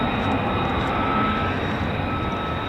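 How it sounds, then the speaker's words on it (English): F-35 fighter jets passing overhead at RAF Lakenheath give off a loud, steady, broad jet roar that holds without a break. "The F-35s are extremely agile."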